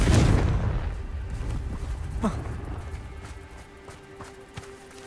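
The Confringo fire spell cast in Hogwarts Legacy, a loud burst with rumbling blast at the start that decays, followed by a sharper crack and scattered lighter impacts fading away.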